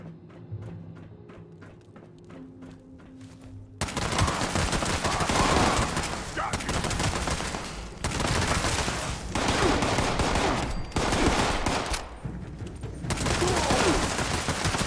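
Loud, rapid automatic gunfire in the video game Fallout 76 starts after a few quiet seconds, with sustained bursts broken by short pauses.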